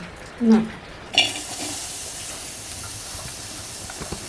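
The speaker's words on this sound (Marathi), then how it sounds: "आणि आता फोडणी देऊया" A sharp burst of sizzling as tempering spices hit hot oil, followed by a steady crackling hiss that continues without talk.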